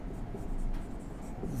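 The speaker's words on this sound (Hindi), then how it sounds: "मैं लिखता चलता हूँ।" A pen scratches across paper in short, quiet strokes while exam questions are worked through, soft and close with a faint background hiss.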